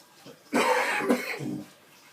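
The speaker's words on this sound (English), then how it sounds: "Excuse my cough." A single burst of harsh coughing, close and fairly loud, lasting about a second before trailing off into quiet.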